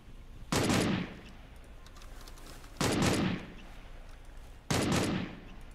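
Three bursts of automatic gunfire in the battle-royale game PUBG, each roughly half a second long and loud against a steady low background, spaced about two seconds apart with no talking.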